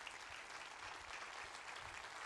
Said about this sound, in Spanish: Den un fuerte aplauso a Dios por eso.